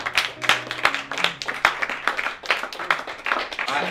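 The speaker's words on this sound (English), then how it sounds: "Round of applause. One more time." Applause and clapping from a small crowd after a limerick poetry reading, steady broadband patter of hands throughout with a few louder claps, some faint voices mixed in.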